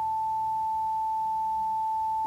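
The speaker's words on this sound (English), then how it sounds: "880 Hz sine wave." A steady, pure 880 Hz sine wave test tone plays continuously and loudly, unchanging in pitch and level, alone with no other sounds.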